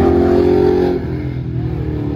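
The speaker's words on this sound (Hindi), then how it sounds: "बाइकर लोग जा रहे हैं" Motorbikes rev and pass on a city road at night, a loud, close engine roar that eases after a second into a steady lower drone.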